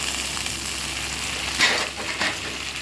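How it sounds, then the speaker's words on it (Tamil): Green peas dropped into a frying pan of sautéed onion, tomato, ginger and garlic paste for a pea and potato stir-fry, giving a steady close sizzle with a brief bright crackle burst and stirring scrapes. "நான் பச்சை பட்டாணி போட்டுறேன்."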